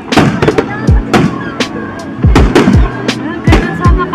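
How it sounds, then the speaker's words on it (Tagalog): Fireworks bursting over a foggy Baguio street at night: several sharp booming pops at irregular intervals, fairly close and loud, with crowd voices and chatter running underneath. "May fireworks po doon."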